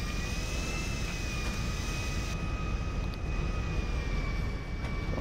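An airplane in the video game GTA Online, its jet engine roaring in a steady, loud whine with a sustained high tone, continuous and close throughout.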